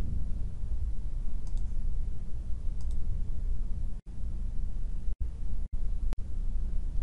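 Sharp computer mouse clicks in Minitab statistical software: a few distinct close clicks near the end, after soft faint clicking earlier, over a steady hiss of room noise.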